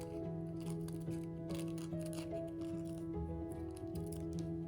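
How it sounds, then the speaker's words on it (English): Child-safe scissors snip a small circle out of paper, a run of soft crisp cuts close by over a quiet background, with no talking. "So maybe you'd like to cut a little circle out of this for an eye."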